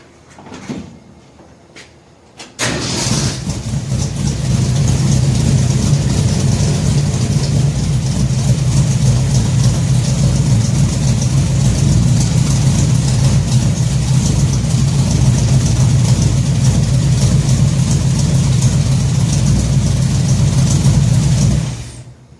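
A 1966 Ford F100 truck engine starts after a faint moment and settles into a steady, rumbling idle with the choke pulled, loud and close for the rest of the clip.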